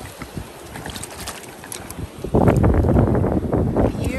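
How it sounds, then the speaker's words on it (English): Seashells, including a pear whelk and a banded tulip, are rinsed in water on a windy beach, with close splashing and sloshing that grows louder partway through. "Let's rinse these out real quick"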